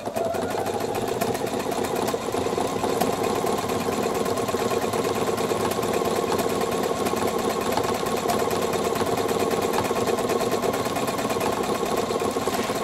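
A Pfaff Performance 5.0 domestic sewing machine stitches continuously at fast speed, a loud, even mechanical whir with a rapid needle rhythm and no pauses.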